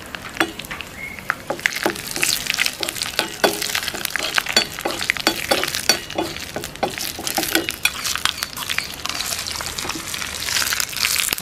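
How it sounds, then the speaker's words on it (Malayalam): Mustard seeds, curry leaves and a few chillies sizzle and pop in hot coconut oil for a Kerala green papaya curry, a steady close hiss with many crackling seed bursts throughout. "നമ്മുടെ ഈ വെളിച്ചെണ്ണ ചൂടായി, നമ്മളിതിലേക്ക് കടുകിടുന്നു. വേപ്പില, പിന്നെ ഒരു മൂന്നാലഞ്ച് മിളക്"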